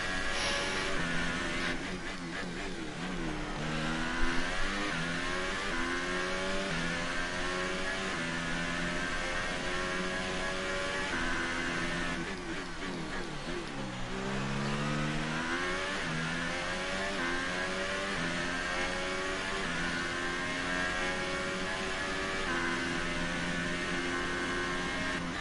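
Red Bull Formula-style race car engine in a PS4 racing game, a steady loud high-pitched whine that continuously rises and drops through gear changes, with no talk over it.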